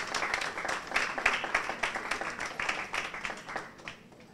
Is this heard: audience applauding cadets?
yes